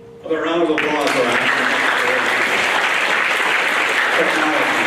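Audience at an eighth grade school awards program breaks into applause that swells quickly and holds as dense, steady clapping from a crowd, loud and continuous after a brief spoken lead-in.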